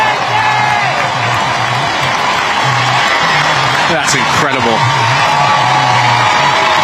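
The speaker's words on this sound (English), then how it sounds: "You hear the crowd." A packed stadium crowd at an Olympic women's football match roars and cheers continuously after a run of saves by the goalkeeper, with a commentator talking over the din.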